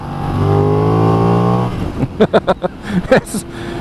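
Loud engine of a 2020 Benelli 752S motorcycle revving high and steady, then dropping into a series of sharp, quick throttle blips.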